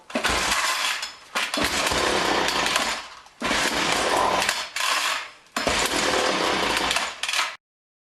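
John Deere weed whipper with a dirty carburetor sputtering as it tries to start: three or four loud, harsh buzzing engine bursts of a second or two each, separated by brief drops, then sudden silence, close by.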